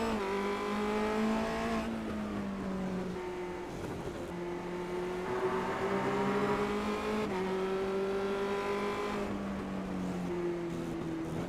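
A race leader's Formula Renault 2.0 single-seater runs at Brands Hatch while closing up on the pace car. The engine drones steadily and up close, with a few gear changes shifting its pitch and no voices.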